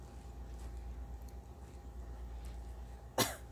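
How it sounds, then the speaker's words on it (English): A single short cough near the end, breaking through a steady low hum. "Sorry, I had to cough."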